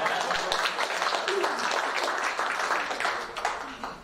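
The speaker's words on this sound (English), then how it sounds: "Can we give you a round of applause?" Applause from attendees at a school district committee meeting, a modest spread of clapping over roughly four seconds, moderately loud and slightly tapering toward the end.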